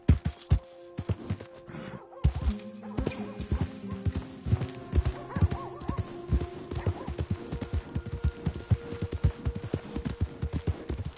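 Rhythmic hoofbeats of a horse in Red Dead Redemption 2 clip-clopping steadily throughout, with a short snort or whinny and faint tones in the background.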